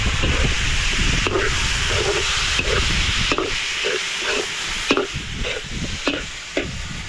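Milkfish sautéing with bamboo shoots in a pan gives off a steady close hiss and sizzle, broken by a series of sharp scraping stirs.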